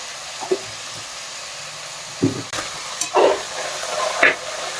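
Chopped tomatoes with salt cook in a hot pan for a rice and lentil dish, a soft sizzle under several brief bursts of louder hissing and stirring, close and alone.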